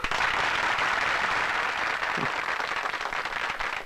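Steady crowd applause fills a scene in an 80s Bollywood film, a dense, even roar of clapping held at moderate level throughout.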